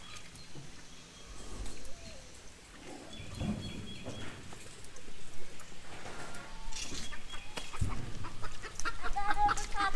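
Chickens cluck out on a pig pasture, soft calls scattered through a busy outdoor background of rustling and movement.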